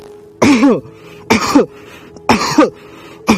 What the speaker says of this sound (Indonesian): Kemudian kita sengaja batukkan.